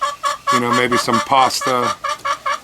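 Backyard chickens clucking in quick bursts of short, nasal calls, close and lively, while a person talks over them.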